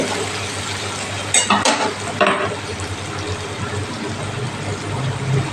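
Chopped onion and garlic go into a pan of frying potatoes while cooking lote fish jhura. A continuous close sizzle runs throughout, with a few brief louder bursts and clatters as the ingredients hit the hot oil.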